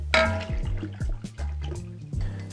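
Angel's Envy bourbon poured as a two-ounce measure for a Kentucky Buck cocktail, a brief close glugging pour with shifting, gurgling tones and a light clink, heard alone without talk.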